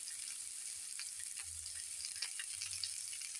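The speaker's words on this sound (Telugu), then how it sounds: "గోల్డ్ కలర్ వచ్చేంత వరకు దీన్ని వేయించాలండి." Raw banana pieces frying with onions and green chillies in a pan: a soft, constant sizzle with faint stirring sounds, quiet and steady throughout.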